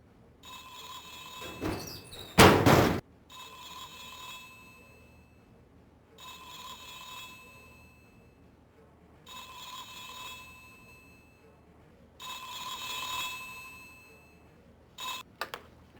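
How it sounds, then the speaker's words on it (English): A telephone rings repeatedly in regular bursts, steady and moderately loud, with a sharp thud early on, in The X-Files PS1 video game. "That's your phone."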